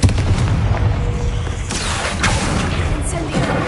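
The Confringo blasting spell going off in the Hogwarts Legacy video game, a loud, sustained rumbling explosion with crackling bursts layered over it, close and heavy throughout.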